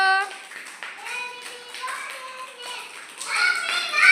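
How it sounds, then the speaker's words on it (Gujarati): Children clap in scattered, uneven bursts for the first finisher of a sack race, with kids' voices and chatter mixed through the clapping. "સાક્ષી માટે તાળી પાડો"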